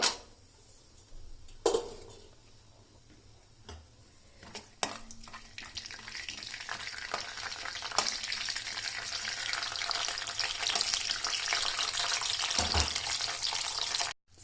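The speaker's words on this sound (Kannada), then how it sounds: "ಬಿಸಿಯಾಗಿರೋ ಎಣ್ಣೆಗೆ ಮಸ್ಟರ್ಡ್, ಸ್ವಲ್ಪ ಜೀರಾ, ಗ್ರೌಂಡ್ ನಟ್ ಸ್ವಲ್ಪ ಜಾಸ್ತಿ ಹಾಕೋಬೇಕು." Mustard seeds, cumin and peanuts fry in hot oil, starting with a few sharp pops and clinks, then building into a steady, bright sizzle that keeps rising until it cuts off abruptly.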